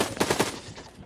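Gunfire in a shooter video game, a quick burst of three or four loud automatic shots in a row, then fading game noise.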